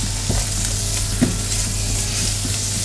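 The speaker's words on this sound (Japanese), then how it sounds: "セロリと玉ねぎさっと炒めます" Celery and onion stir-fry in a pot over medium heat, giving a steady close sizzle broken by a few soft knocks of stirring.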